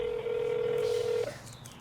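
A single telephone keypad tone holds steady for about a second before ending abruptly, followed by quiet room ambience, as a number is dialed on a phone.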